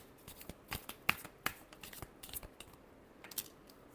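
Tarot cards shuffled by hand in a series of quick riffling bursts with short papery clicks, close and fairly quiet, no voices.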